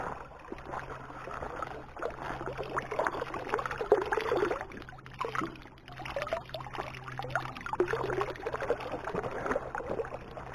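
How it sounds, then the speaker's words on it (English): Continuous trickling and splashing of a spring flowing in a forest, close by, with gurgling variations that rise and fall over a low steady hum. "Even deep in the forest you can find some fresh drinking water."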